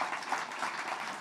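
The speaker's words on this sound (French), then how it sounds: "Donc, sincèrement, applaudissez-les." Brief applause from a seated audience at a French launch event, a dense, even patter of clapping heard at moderate volume with no voices over it.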